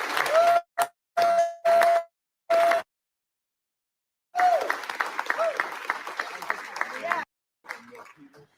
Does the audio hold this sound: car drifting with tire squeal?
no